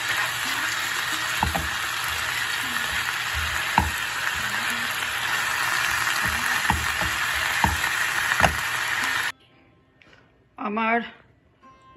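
A coconut and jaggery modak filling fries in a pan with a loud, continuous sizzle and occasional stirring knocks. It stops abruptly and a voice speaks briefly afterward.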